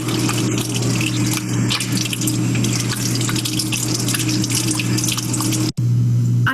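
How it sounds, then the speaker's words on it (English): Tap water runs steadily into a sink for hand washing, a loud continuous splashing stream that cuts off abruptly near the end, then resumes briefly. "I turn on the water."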